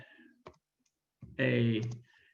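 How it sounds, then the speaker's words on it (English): Clicking and key taps from a computer keyboard while creating a quiz in Microsoft Forms, a few sparse clicks near the start followed by a voice talking over them. "please don't grade me on my typing skills today"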